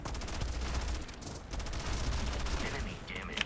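Rapid AK rifle fire in the video game Starfield, dense continuous bursts of loud gunshots that barely pause, with a voice briefly audible beneath the shooting.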